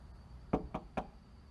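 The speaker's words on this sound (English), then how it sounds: "Knock again." Three quick, evenly spaced knocks on a house door at night, fairly faint against a quiet background hum, with no talking.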